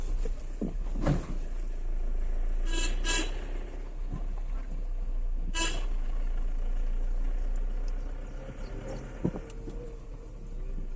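A car's engine drones steadily while driving along a road past temples, with several short horn honks standing out and some faint thumps, close and continuous, no talk.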